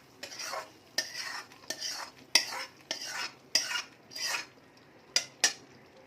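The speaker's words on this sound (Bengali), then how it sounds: "ভালোভাবে এটাকে মিক্স করে দিচ্ছি" A spoon stirs khichuri spice masala in a pot over a low gas flame, producing about nine rhythmic scraping strokes, close and distinct, over a faint background sizzle.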